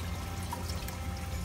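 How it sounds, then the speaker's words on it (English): An auto top-off pump feeds water into a reef aquarium, giving a steady, continuous pouring trickle with a low pump hum underneath, close and unbroken. "Now it's putting water, it's pumping water,"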